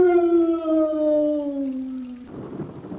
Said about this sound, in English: He keeps hearing these deafening howls.